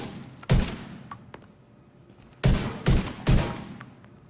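Gunfire in The Division 2, shooting out a lock inside a D.C. museum: one sharp shot, a pause of about two seconds, then three quick loud blasts in a row, with no talking.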